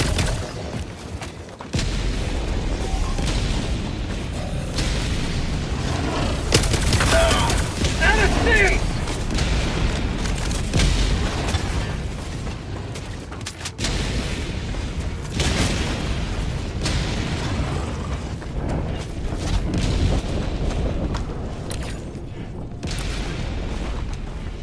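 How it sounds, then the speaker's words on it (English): Repeated booming explosions from an orbital barrage strike in the video game Helldivers 2, a dense, loud rumbling wash of blasts and mechanical game noise running throughout, with a player talking over parts of it. "Firing orbital barrage."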